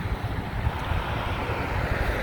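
Strong wind on a blustery day at a building demolition site, a steady broadband roar buffeting the microphone with no breaks.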